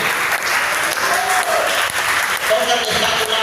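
A church congregation claps loudly for Christ during an evangelical service, continuous and energetic, with voices and a few sustained tones faintly mixed in under the clapping.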